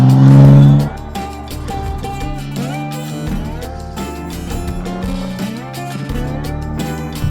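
Dodge six-cylinder engine paired with an 8-speed gearbox accelerates hard, a loud rising engine note climbing through the revs and stepping through gear changes, with a strong low rumble at the start and no talking.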